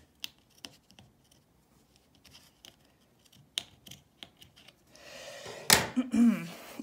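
Scissors snip the string edge on a woven necklace near the end, a close crisp cut after faint scattered handling taps, with no talking.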